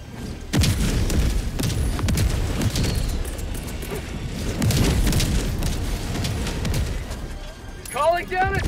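Orbital strike explosions land in Helldivers 2 as a string of heavy, booming blasts that rumble close and loud, separated by gunfire and mixed with shouted voices.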